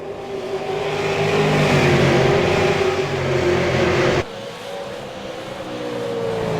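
Race car engines roar loudly across the start-finish line at Five Flags Speedway in a CARS eSport Tour racing video game, a sustained howl that cuts off abruptly and is replaced by another car's engine tone.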